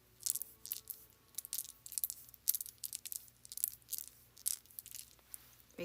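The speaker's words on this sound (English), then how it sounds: "And here's the mini dice, just in my hand." Small mini dice rattled in a cupped hand, a quiet run of crisp, irregular clicky bursts repeating for several seconds without voices.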